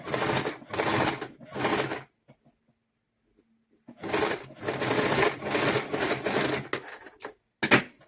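Sewing machine stitching a children's garment: close, loud bursts of rapid stitching in short runs, broken by a two-second pause, then longer runs ending in a couple of quick clicks.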